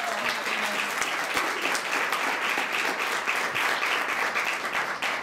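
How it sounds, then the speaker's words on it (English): An audience at a community gathering in a hotel bursts into sustained applause, dense and even clapping from many hands lasting several seconds. "let's give them a big round of applause"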